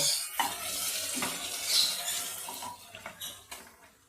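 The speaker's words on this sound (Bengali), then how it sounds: "আমি 5 মিনিট এটা কষিয়ে নেব।" Washed goat meat with two bay leaves and a little water being stirred and fried in a pot for bhuna, a hissing sizzle broken by scraping strokes and light clinks of a spoon on metal.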